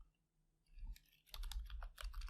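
Computer keyboard typing during a command-line session in Kali Linux, a quick run of clustered key clicks that thickens in the second half, close and fairly quiet with no talking.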